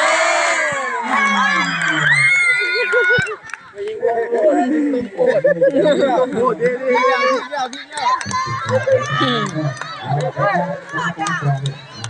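Supporters of a boys' school football match between two Thai village schools cheer and shout from the sidelines, a lively crowd of children's voices rising and falling throughout, mixed with chanting and close-by talk.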